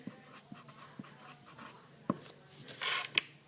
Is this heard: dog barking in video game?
no